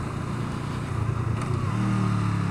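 A Honda CMX500 Rebel motorcycle engine rumbles steadily and climbs gently in pitch as it accelerates, close and fairly loud, with no talking.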